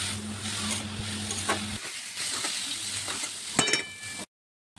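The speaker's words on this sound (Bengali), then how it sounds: "এবার এটাকে ভালো করে মিক্স করে নেব।" Radish pieces stirred and fried in a pan with salt and slit green chillies, giving a steady close sizzle with spoon scrapes and a few clinks, ending abruptly in silence.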